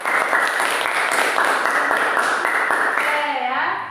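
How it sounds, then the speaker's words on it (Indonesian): A classroom of students applauds group 2 in a maths lesson, a dense burst of clapping that continues steadily and then fades as a voice rises at the end. "beri tepuk tangan untuk kelompok 2"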